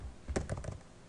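Quick burst of keyboard typing, several close keystrokes clattering in a short run with a faint background hiss.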